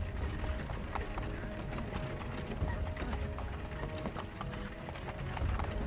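Horse hooves trot in Assassin's Creed III on the Wii U, a steady clip-clop rhythm running throughout amid busy game sound effects.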